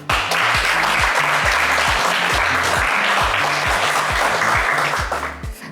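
Studio audience applauding steadily on a French TV game show, dense clapping over a strong rhythmic music beat, loud and sustained, fading slightly at the end.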